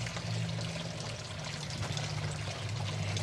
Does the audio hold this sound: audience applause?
no